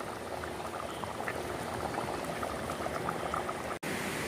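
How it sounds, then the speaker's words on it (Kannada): A pot of mackerel fish sambar at a rolling boil, bubbling and popping steadily up close, with a brief dropout near the end. "ಆವಾಗ 10 ನಿಮಿಷ ಆಯಿತು ನೋಡಿ, ಚೆನ್ನಾಗಿ ಕುದೀತಾ ಇದೆ, ಬೆಂದಿತು."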